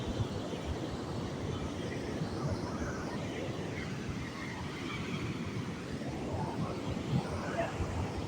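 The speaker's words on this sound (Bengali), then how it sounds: "কি জোরে জোরে ঢেউ আসতেছে" Strong sea waves crash on the shore in a continuous rumbling roar, with wind buffeting the microphone throughout.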